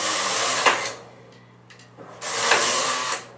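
A knitting machine carriage, run with Designaknit Pro 7 through a Silverlink 2 link, makes two loud mechanical sweeps across the bed separated by a quieter pause, with no talking.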